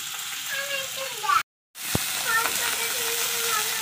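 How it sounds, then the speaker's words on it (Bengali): Small chara pona fish frying in oil: a close, steady sizzle with faint spattering, cut by a brief moment of silence partway through before the frying hiss resumes and continues to the end. "দেখো মাছগুলো এখন ভাজা হচ্ছে"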